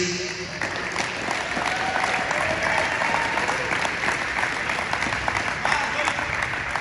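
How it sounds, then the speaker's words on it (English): Sustained applause from an audience honoring seniors at a high school basketball game in South Kingstown, steady clapping and crowd noise filling the gym for several seconds with some voices mixed in. "one more round of applause for our seniors."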